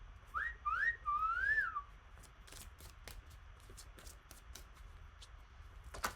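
Pet guinea pigs give three quick rising whistles close by, the last one longer, followed by soft rustling and scattered small clicks as they move about in the quiet.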